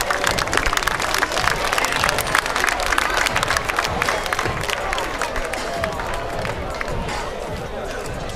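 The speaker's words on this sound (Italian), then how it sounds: "Applauso." Crowd at an amateur boxing gala applauding after the third round, loud, sustained clapping mixed with crowd noise and some cheering throughout.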